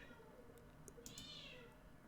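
A house cat meows repeatedly at close range, several drawn-out, rising cries in a row over a steady room hum.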